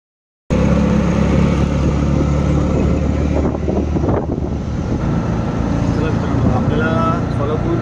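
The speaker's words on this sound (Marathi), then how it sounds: "आपल्याला सोलापूर स्टेशनवरून रिक्षा भेटलेली आहे." An auto rickshaw picked up at Solapur station runs steadily after starting, a loud continuous engine drone close by that continues throughout, with a voice speaking over it.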